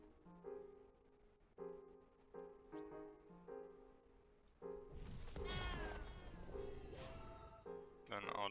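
Cartoonish cat meows from the Waven video game, a string of short mewing calls over game music, then a louder cluster of overlapping yowls and a final high meow near the end.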